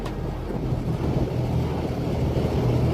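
Steady, rumbling wind buffets the microphone with a low, continuous roar that holds for the whole stretch, with no voices.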